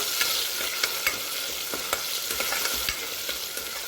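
Finely chopped tomato being sautéed in a pan gives a continuous close sizzle broken by regular spatula knocks and scrapes against the pan, rhythmic stirring throughout with no talking.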